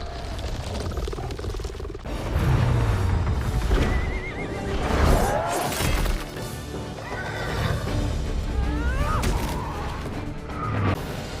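A flying horse in Thor: Love and Thunder gives a loud whinny over a busy action soundtrack full of hooves, crashes and movie dialogue.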